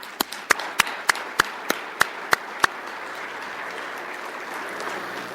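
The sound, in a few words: audience applause at a conference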